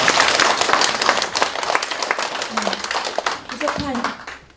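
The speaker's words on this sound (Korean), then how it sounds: "부족한 강연에 많은 박수 보내주시고 대단히 감사합니다." Lecture audience claps after a talk, a fairly loud burst of applause that thins out with some voices and movement mixed in toward the end.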